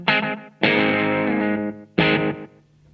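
Electric guitar chords played through a Walrus Audio ARP-87 multi-function delay pedal with the reverb off, three distorted strums, each ringing out and decaying with a soft echoing tail.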